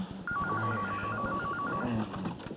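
A telephone rings in a French television drama, a steady electronic trilling warble repeating for about a second and a half, fairly loud and close over a faint background hum, with no voices over it.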